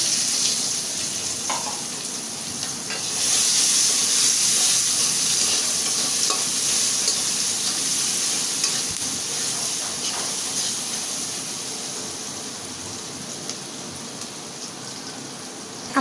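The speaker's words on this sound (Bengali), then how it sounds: "আমি এই তেলে পেঁয়াজ দেব।" Onions frying in hot oil in a pan while cooking river pangasius with eggplant, a steady, close sizzle with soft crackle that holds loud, then eases gently toward the end.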